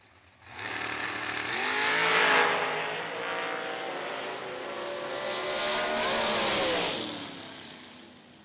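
James Brown's dragster and the Neon Dream of Nicole Marquardt launch down a drag strip at an end-of-year bracket race, their engines rising into a loud roar that peaks, dips, and swells again before fading, with no talk.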